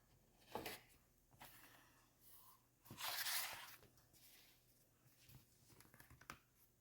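Blade slicing through beige leather for a hand-sewn napkin ring, heard as a few short, quiet scraping strokes and one longer rasping cut, close and isolated with no talk.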